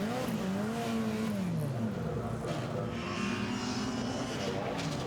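A race car at the Chateau Impney hillclimb brakes hard with the rear wheels locking, its engine note dropping and tires squealing at moderate distance while a commentator talks over it.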